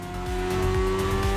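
A powerful BMW S1000RR superbike engine in the video game The Crew Motorfest drones and revs continuously, with rising pitch sweeps as it accelerates through gears.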